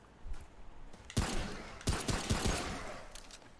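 Gunfire in the video game Remnant: From the Ashes: a few sharp shots with echoing tails, clustered near the middle of the clip over a low ambient bed, moderately loud and with no talking.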